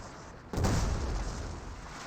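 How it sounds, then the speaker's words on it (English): A sudden low boom of an explosion from Company of Heroes 2 cuts in about half a second in, then rumbles on loudly as a broad roar that fades only slightly to the end. "they never fixed that sound bug where it still plays like an explosion audio effect there"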